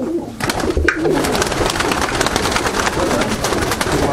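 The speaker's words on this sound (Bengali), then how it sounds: "এবার আমি কটা নর পায়রা দেখাবো" Male Madrasi pigeons at a pigeon sale coo steadily up close, their soft rolling calls overlapping in a dense, continuous flock murmur with no clear pauses.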